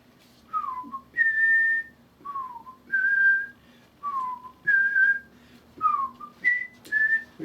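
A person whistles a short melodic tune, about ten clear rising and falling phrases separated by brief pauses, close and alone over faint background hum.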